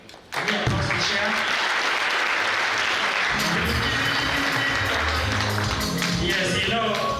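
Audience applause for the university council chair at a public lecture on the Kenyan government's response to external shocks: sustained, dense clapping fills the hall at steady volume for several seconds, with some voices mixed in.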